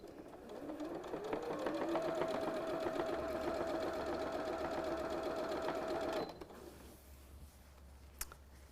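Sewing machine stitching binding onto a quilt, a steady fast mechanical whir with rhythmic needle clatter for about six seconds before stopping, followed by quiet handling and a single faint click.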